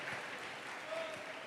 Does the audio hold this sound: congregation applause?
yes